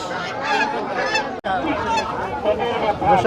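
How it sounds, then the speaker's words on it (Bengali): Several domestic geese honk continuously in loud, harsh overlapping calls close by at a rural poultry market, with a brief cut partway through. "রাজহাঁস কি আপনার"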